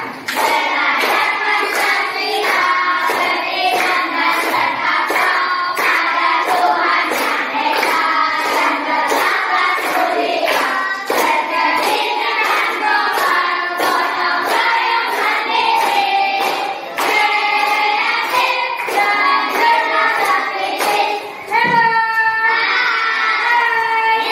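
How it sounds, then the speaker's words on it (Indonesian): An audience in a classroom science demonstration claps in a steady rhythm, each clap landing evenly under continuous tonal singing or music that fills the whole stretch. "Tepuk tangan Anda"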